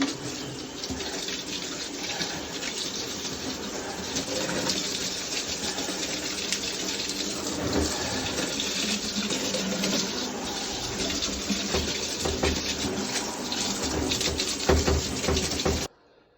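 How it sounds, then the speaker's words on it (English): Water streams steadily onto chromed wire-spoke car wheels during rinsing, a close, constant hiss and splash lasting about sixteen seconds before cutting off abruptly, with no talking. "we're doing some rinsing on this side"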